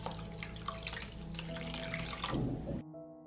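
Water running steadily into a soup pot with cooking cream and a beef cube already added, a continuous splashing pour close by that stops abruptly near the end.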